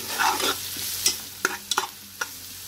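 Onions, crushed ginger and garlic fry in a pan, a soft low sizzle broken by several sharp scrapes and clinks of a spoon stirring against the metal.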